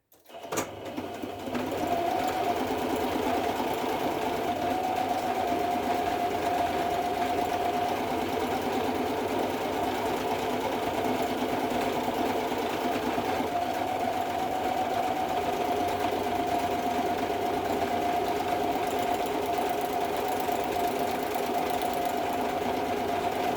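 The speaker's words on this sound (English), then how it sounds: "I like to sew around," A sewing machine stitches around the edge of a paper journaling card, a steady, close mechanical whir with a constant hum that runs on without pause for over twenty seconds after a brief start.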